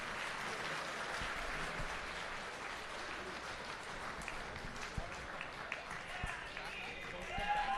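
At a speedway night of champions, a crowd applauds the mini stock drivers with a sustained, steady wash of clapping from a distance, while an announcer's voice carries over it.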